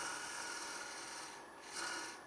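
A hand tool files and rubs against the end of a small wooden Christmas ornament, giving a close, soft rasping scrape in continuous strokes that dips briefly and then resumes.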